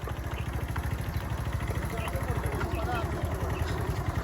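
A motorcycle engine runs steadily close by, a throbbing low putter with a regular pulse, while a voice talks over it.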